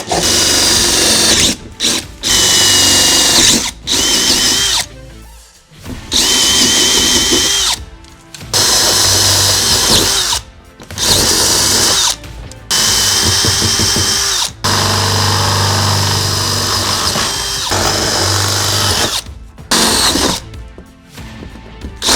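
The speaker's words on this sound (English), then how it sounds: "Always going to want to use that when you're drilling holes in the van." A power drill runs loud and close in repeated bursts, revving and whining through the metal of a RAM ProMaster van, with short pauses between each hole.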